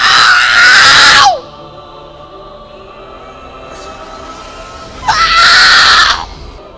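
A man screams loudly during a church skit of a possessed man before Jesus, two long harsh cries separated by a stretch of quiet.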